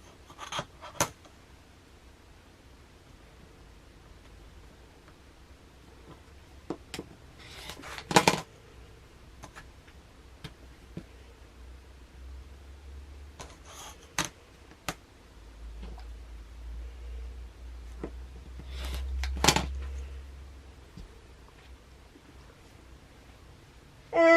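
Fabric pieces for a quilt block are cut in a quiet room, with a few isolated sharp snips and clicks spread out over a low, steady rumble.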